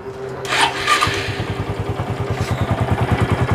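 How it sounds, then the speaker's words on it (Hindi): A motorcycle engine with timing chain noise cranks and catches, then settles into a close, rhythmic idle. Quick, regular knocking and a light clatter run through the running engine. "कभी कभी टाइमिंग चेन की मामूली थोड़ी बहुत आवाज़ आती है"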